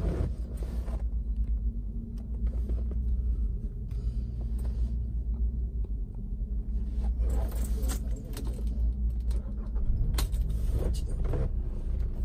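A 2016 Kia Rondo with a 2.0 Eco engine and automatic gearbox idles quietly in a steady, low rumble that stays even throughout, with a few faint clicks and rattles on top.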